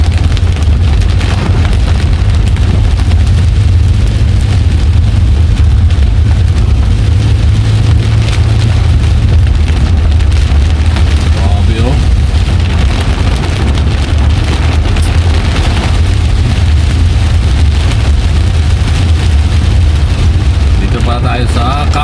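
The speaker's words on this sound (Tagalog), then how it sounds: "Tapos ngayon ang lakas na ng ulan." Heavy rain drums steadily and loudly on a moving vehicle, a dense unbroken roar with low road rumble underneath and occasional thumps.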